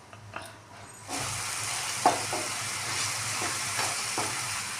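Onions frying with salt in a pan for a goat curry, a quiet start and then a steady close sizzle with a few stirring scrapes and taps.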